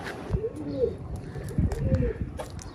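Pigeons coo in short soft bursts near a home loft, with a faint voice talking alongside.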